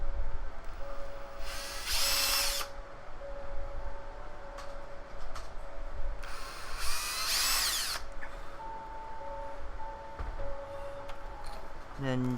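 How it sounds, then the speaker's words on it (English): A power drill bores mounting holes for an arcade stick controller build, two loud whining bursts a few seconds apart, each about a second long, with a person talking quietly in between. "Drill out the holes on the other ones so we can just mount the step down."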